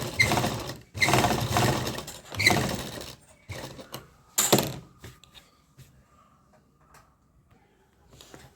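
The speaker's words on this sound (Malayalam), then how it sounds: "ഇതിപ്പോൾ നമ്മൾ രണ്ട് ഡോട്ട് ഇതുപോലെ സ്റ്റിച്ച് ചെയ്ത് കഴിഞ്ഞിട്ടുണ്ട്" Sewing machine stitching a saree blouse, several close bursts of rapid whirring stitching separated by short pauses, followed by quieter handling clicks and near silence.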